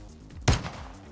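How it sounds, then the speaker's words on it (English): A single sharp Warzone gunshot cracks out against a steady background bed, loud and close, with a short decaying tail. "On my gunshot, Mr. Fox."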